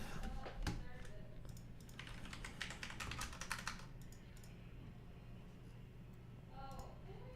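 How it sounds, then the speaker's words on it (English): Rapid clicking of typing on a computer keyboard, close and fairly steady for several seconds before thinning out, with faint background hum and no clear talk over it. "Oh God, Abby's like typing got to you"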